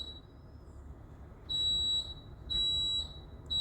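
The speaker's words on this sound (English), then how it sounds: "we are testing the alarm system right now" A building alarm system under test beeps in long, steady high-pitched tones, two sustained blasts about a second each with a short gap between, loud over quiet room hiss.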